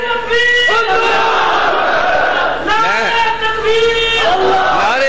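A large crowd at a religious speech gathering shouts in loud, rising bursts, voices surging together in repeated waves like chanted slogans.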